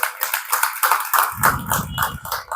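Crowd applause at a motivational talk, a brisk wash of clapping hands, joined halfway through by a low rumbling undertone, steady and fairly loud.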